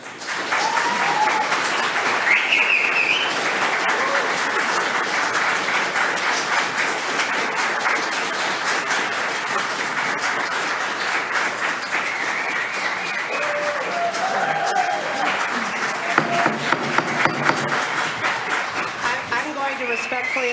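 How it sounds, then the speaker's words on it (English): An audience at a city council meeting applauds steadily for about twenty seconds, loud and sustained, with crowd noise, whistles and cheers mixed in. "Respectfully ask that we not applaud and whistle and cheer and give a standing ovation"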